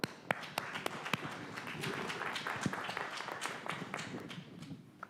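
Bible study audience in a church meeting room clapping in welcome, a scattered, fairly faint patter of individual hand claps that tapers off over a few seconds.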